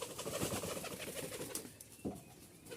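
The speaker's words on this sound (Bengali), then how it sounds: "রাজশাহী গিরিবাজ মাদি খুব ভালো মানের" A Rajshahi Giribaz pigeon coos softly in a loft, low throaty murmurs with a few faint rustles, quiet and close-by, no talk.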